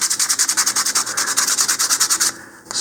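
Close, steady back-and-forth sanding on a small model rocket part from an Apogee Components Katana Jr kit, eased for a tighter fit; about twenty rapid, even rasping strokes, then a brief stop with a soft tap near the end.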